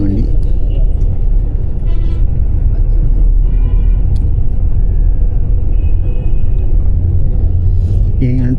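An HRTC Volvo bus travels from Shimla toward Chandigarh, its interior road rumble and engine drone steady and loud throughout, with someone talking over it and a few faint clicks and squeaks.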